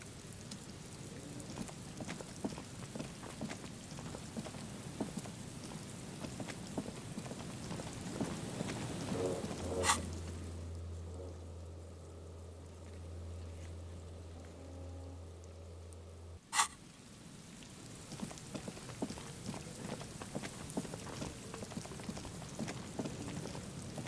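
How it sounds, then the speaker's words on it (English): Steady rain patters on surfaces with a gusting coastal wind near reeds at a cape's end in the video game Disco Elysium, broken by a short quieter stretch with a low hum before the downpour resumes. "The reeds shake sadly in the coastal breeze, weighed down by rain."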